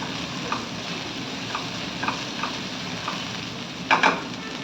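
Pasta frying in ghee gives a steady low sizzle with a few soft stirring scrapes, then a brief louder clatter near the end, close and with no talking.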